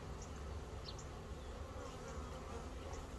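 Honey bees fanning at a queenless hive, a steady dense buzzing drone that holds at even loudness throughout, close and continuous with no talk over it.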